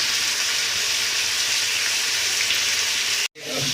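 Onions and chicken frying in oil for biryani, giving a steady, close hiss of sizzling that drops out abruptly near the end before resuming.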